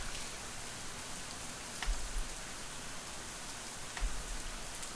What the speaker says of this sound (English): the rain continues to bear down on us